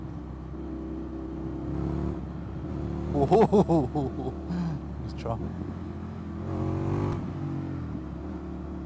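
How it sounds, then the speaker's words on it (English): An Indian FTR 1200 V-twin motorcycle engine revs in a short, loud burst of blips amid a steady idling rumble, with a rider talking nearby. "Can't really beat a V-twin for sound, can you?"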